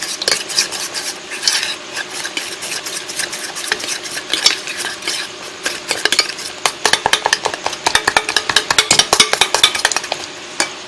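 A spoon stirs a spiced batter of cornflour and flour in a bowl, with continuous wet mixing and rapid clicking scrapes against the sides that grow quicker and more percussive toward the end.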